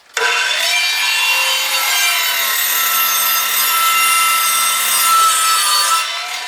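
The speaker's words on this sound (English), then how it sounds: "Now I'm going to cut two more 1x4s, and we're going to cut those to 6 feet in length." A handsaw cuts 1x4 wooden boards to six-foot lengths outdoors, giving loud, continuous rasping strokes up close for several seconds before stopping.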